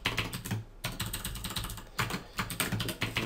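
Code is typed on a computer keyboard in close, rapid bursts of clicky keystrokes, with short pauses between runs and no talking.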